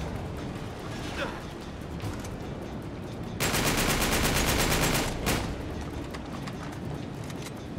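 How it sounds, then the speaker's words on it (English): Gunfire in Uncharted 3: Drake's Deception, a loud, rapid machine-gun burst of evenly spaced shots lasting a couple of seconds, with scattered single shots before and after and someone talking over the action. "Why is everyone shooting at each other?"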